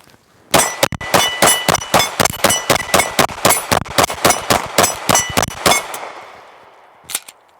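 PSA Dagger handgun firing a mixed assortment of hollow point rounds, about twenty loud sharp shots in a fast steady string, then a pause and a brief metallic clatter.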